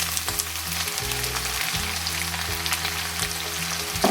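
Onions fry in a pan for a black-eyed bean masala curry, giving a steady, dense sizzle with a low background hum and no talk.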